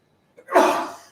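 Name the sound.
sneeze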